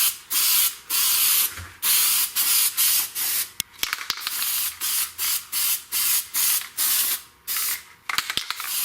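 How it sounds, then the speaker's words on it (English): Headliner spray adhesive hisses from a can onto cardboard for a Camaro / Trans Am sail panel speaker cover, in a long run of short, close, loud bursts with brief gaps between them. "I'm going to spray it so that it sticks."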